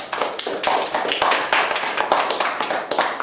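An audience claps for a young man at a youth gathering, a dense run of sharp overlapping hand claps that holds loud and steady from start to finish.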